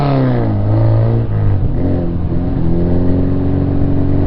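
A 2018 Yamaha R6 motorcycle engine revs hard and close, climbing in pitch, dropping briefly at a gear shift, then pulling up again with a steady, loud buzzing tone.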